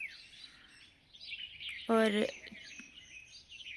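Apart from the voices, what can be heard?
birds chirping on a village morning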